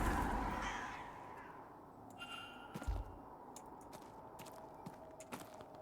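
In the video game The Séance of Blake Manor, crows give a few scattered, fairly faint caws after a fading rush of noise, along with light taps and knocks.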